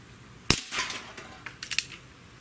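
A Smith & Wesson M29 .44 Magnum CO2 BB revolver fires one sharp close shot outdoors, then a few faint clinks and taps of BBs striking targets follow.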